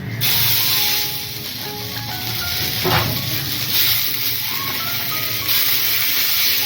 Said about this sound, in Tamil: இப்போ இது கூட கருவேப்பிலை போட்டு வறுத்து எடுத்துக்கலாம்.